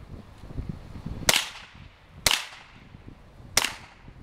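Three sharp .22 rifle shots fired at a homemade bulletproof vest outdoors, spaced about a second apart, each a loud crack with a short fading echo.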